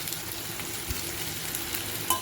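Chopped green chillies, garlic, tomatoes and ginger sauté in a hot pan with a constant close sizzle, broken by light stirring scrapes and a sharper clink near the end.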